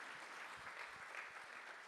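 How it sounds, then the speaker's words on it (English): Steady applause from a live audience at an onstage conversation with a film director and a Paralympian, a dense even patter of many hands lasting the whole short stretch, heard from a distance at a moderate, unchanging level. "You deserve a full clap for that."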